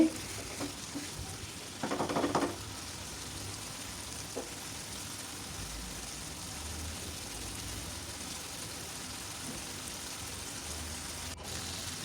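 Chicken stir-fried in oil in a pan gives a soft, continuous sizzle with a brief louder scrape of stirring near the beginning, then settles into a quiet, even frying hiss.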